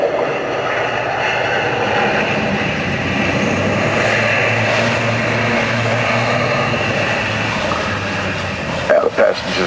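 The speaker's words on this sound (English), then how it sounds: "Beautifully placed on the ground, and the aircraft propellers into ground fine pitch." An ATR-72 turboprop touching down with its propellers going into ground fine pitch, a loud steady roar of engines and propellers with a low droning hum that stays constant throughout.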